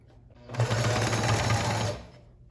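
A sewing machine stitches fabric for a bag holder in one loud, close, continuous burst of rapid needle chatter lasting over a second, with quieter handling before and after.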